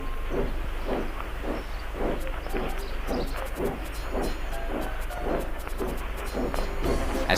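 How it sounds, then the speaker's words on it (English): A steam engine puffs steadily out of a station, its rhythmic chuffs repeating at an even pace over a low constant rumble, with a faint hiss and no voices. "he puffed out of the station"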